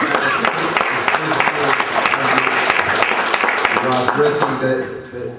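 Loud, sustained audience applause fills a public hearing room, steady clapping running for several seconds under overlapping voices before tapering off at the end.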